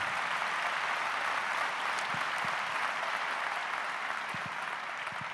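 An audience at an awards gala applauds in a dense, continuous burst of clapping that holds steady and loud throughout, with a few faint isolated sounds beneath it.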